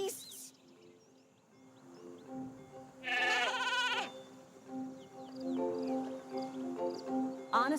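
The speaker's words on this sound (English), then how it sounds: "Honestly, Hugo, they're just sheep." Sheep in the Skylanders: Spyro's Adventure video game bleat, one loud wavering bleat in the middle followed by softer bleats, over a quiet game-world background of birdlike chirps.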